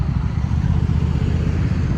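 Steady low engine rumble of a motorcycle riding in eastern Montana, loud and continuous with wind buffeting, no speech.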